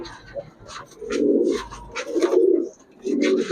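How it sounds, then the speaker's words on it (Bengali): Pigeons coo at a pigeon shop in three close, repeated throaty bursts, with faint chirps and rustling in the gaps between. "এরপরে আছে চান্দিলাল কবুতর"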